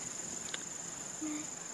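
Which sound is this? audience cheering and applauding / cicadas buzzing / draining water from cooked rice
cicadas buzzing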